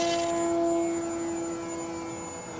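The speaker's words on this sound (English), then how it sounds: "I don't own any other plane that'll fly as slow as a Timber." An E-flite Timber radio-controlled plane on floats flying slowly overhead, its electric motor giving a steady tonal whine that gradually fades a little as it passes.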